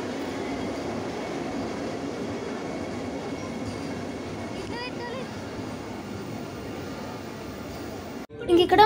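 Vande Bharat Express chair-car train running from Secunderabad to Tirupati, with a steady rumble of wheels and carriage noise throughout and an abrupt louder jolt near the end.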